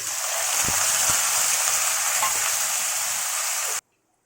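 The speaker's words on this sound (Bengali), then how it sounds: "তার মধ্যে ক্যাপসিকাম, বিনস, গাজর এটা আমি এটা লাল করে ভেজে নেব" Capsicum, beans and carrots fry in hot oil with a little ghee, a loud, steady, close sizzle with a couple of soft knocks near the start, ending abruptly.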